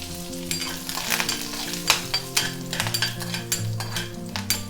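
Mustard seeds, urad dal, cumin and curry leaves sputter and sizzle in hot oil in a kadai, with loud crackling pops and repeated scraping stirs of a spoon against the pan.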